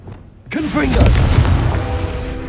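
A sudden loud Confringo blast spell from the wizarding game Hogwarts Legacy, bursting in after a brief quiet moment and rumbling on as a sustained booming explosion, with a voice briefly heard at the start of the burst.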